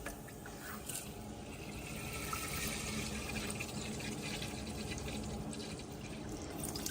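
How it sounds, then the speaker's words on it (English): Tap water pours steadily into a kitchen pot to boil a beet, a continuous filling rush and trickle that holds for the whole stretch with no talking. "fill it with water"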